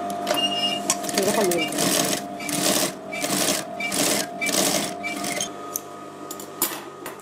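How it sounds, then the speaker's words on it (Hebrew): Sewing machine stitching the zipper front fly of a pair of trousers, running in repeated bursts of rapid mechanical whirring and clatter with a person talking over it. "ואז אני עושה תפר הפניה"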